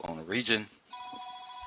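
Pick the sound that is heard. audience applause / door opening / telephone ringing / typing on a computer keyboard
telephone ringing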